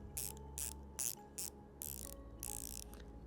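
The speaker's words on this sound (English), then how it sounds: "You get a super grippy, oversized coin edge bezel with a 120 click unidirectional action." Crisp ratcheting clicks from a 120-click unidirectional watch bezel come in quick short bursts, several separate runs of tiny clicks, close and quiet against a faint background hum.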